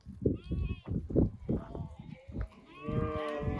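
An Akkaraman sheep flock mills about near Mount Ağrı, a mix of low grunting calls and a longer wavering bleat at the end, fairly faint with a voice talking over it.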